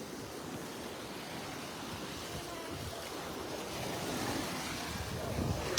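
Sea waves wash steadily against the shore, with a broad, continuous rushing hiss mixed with wind buffeting the microphone, fairly faint and swelling slightly toward the end.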